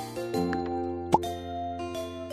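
Ice dropped into fruit juice in a cafe video game, heard as one sharp plop partway through, set over steady background game music.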